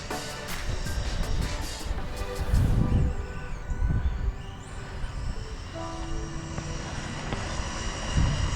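A BlackZon Slyder Turbo RC car speeds past at high speed. A high electric motor whine rises and falls over rough rumbling tire noise, with a few louder passes.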